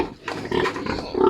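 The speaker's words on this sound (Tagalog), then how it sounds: "Ang lalaki ng baboy" A large sow close to farrowing grunts close up in a pen, a series of loud, rough, closely spaced nasal grunts with a brief quiet gap near the start.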